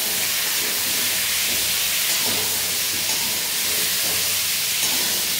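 Onions fry on a high flame in a pan for a Kolkata-style chicken stew, giving a loud, steady, unbroken hiss throughout with no talking.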